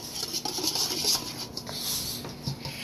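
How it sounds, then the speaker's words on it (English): Devil's food cake batter being whisked by hand in a bowl, a steady soft scraping and rubbing that runs continuously at close range, with no one talking. "see if you can whisk that around really good"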